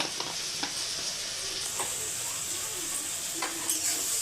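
Onions fry in oil with chili powder and ground coriander, giving a steady moderate sizzle under repeated scraping stirs of a spatula against the pan, close and continuous with no voices.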